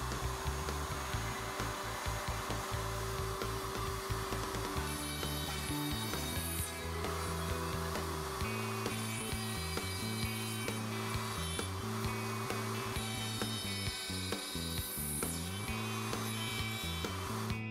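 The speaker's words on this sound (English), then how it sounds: "The frame is moved to the number two position to route the socket boards." A Leigh RTJ400 router table routs box joint socket boards in wood, a loud continuous router whine with a pulsing, stepping cut that shifts as the board is fed through each pass.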